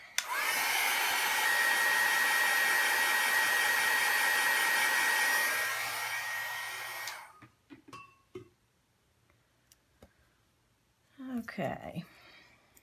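A handheld hair dryer blows loudly and steadily on a mixed media index card for about six seconds, then shuts off, followed by quiet handling sounds and brief talk.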